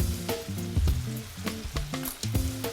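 Zucchini and onions sizzle steadily in a hot pan, a close crackling fry broken by intermittent clinks and scrapes of a utensil stirring the vegetables.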